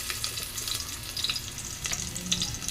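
Garlic sautéing in a pan for a sardine soup, giving a continuous close sizzle with a crackling hiss and small spitting pops throughout.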